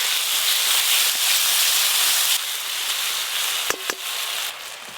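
Ginger, garlic, onion and cumin frying in oil with dried chilli paste, giving a steady close sizzle and hiss with a few small clinks near the end.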